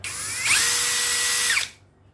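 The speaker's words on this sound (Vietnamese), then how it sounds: "Con này khoan sắt khoan gỗ được vô tư nha" A Japanese-market cordless battery drill spinning up, running at a steady whine for about a second with a rising and falling pitch at the start and end, then stopping, close and alone.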